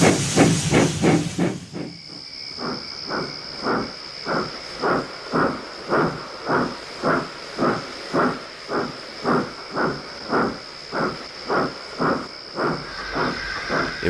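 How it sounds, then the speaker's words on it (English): Steam locomotive Percy from Thomas and Friends gives several short whistle toots, followed by a steady rhythmic chuffing of steam and a constant high hiss, loud and close. "Percy's whistle sounds very loud."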